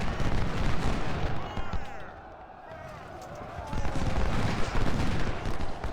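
Cannon fire from 6-pounder guns in a historical battle video game, dense booming volleys rolling continuously with a brief lull mid-way, heard under a talking voice.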